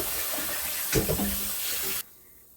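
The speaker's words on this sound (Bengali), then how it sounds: "এই যে একটু পানি ছাড়বে, ওই পানিটা আমি ফেলে দেবো" Water runs and splashes steadily as it is poured off steamed chicken, a continuous close rush with a brief clatter midway, then it stops abruptly.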